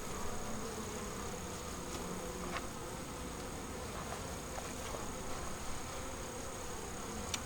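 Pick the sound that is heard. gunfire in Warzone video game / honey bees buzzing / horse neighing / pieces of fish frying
honey bees buzzing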